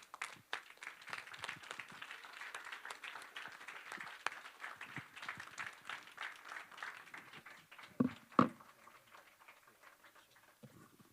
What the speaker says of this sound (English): We would request everyone to please rise and give a huge round of applause